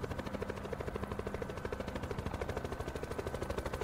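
A helicopter in Call of Duty Black Ops 4 battle royale thumps with rapid, steady rotor beats, close and continuous against a game soundscape, with no talk.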